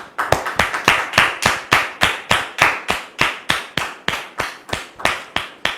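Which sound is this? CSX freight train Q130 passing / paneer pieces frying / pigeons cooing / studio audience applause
studio audience applause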